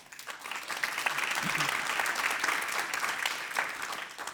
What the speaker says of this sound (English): So please welcome our panelists with a round of applause.